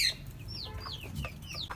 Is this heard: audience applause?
no